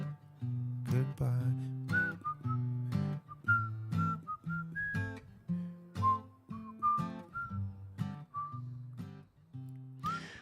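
A bright whistled melody weaves through a steady musical backing, its notes gliding up and down in a lively rhythm throughout.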